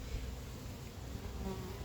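Honeybees drone steadily inside an opened beehive with drones on the frames, a faint continuous buzz that stays even and unbroken throughout.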